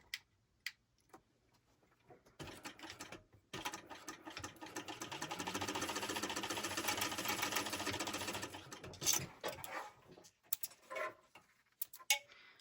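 A sewing machine stitches a 1/4 inch seam at 3.5 stitch length, a steady whirring run of several seconds framed by scattered clicks and handling taps before and after.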